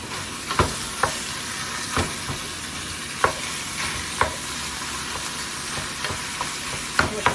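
A wooden spoon stirs and mashes sizzling food in a new frying pan, with repeated sharp scrapes and knocks against the pan over a steady frying hiss, close up and with no talking.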